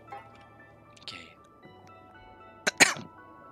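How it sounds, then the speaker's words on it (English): A person coughs, a short muffled cough early on and then a sharper, louder burst near the end, with quiet gaps and faint background sounds in between. "Sorry, I had to cough there."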